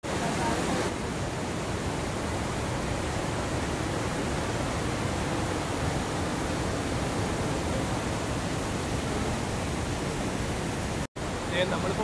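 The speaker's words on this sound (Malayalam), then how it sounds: "വാഴശാലിക്ക് വെള്ളം കൊണ്ട് വീഴുന്നൊരു ഒച്ചയാണ്, നല്ല ഒച്ചയാണ്" Steady, broad roar of Vazhachal waterfall in Kerala during the monsoon, heard from a viewpoint above the falls, a continuous loud rush of falling water without a break.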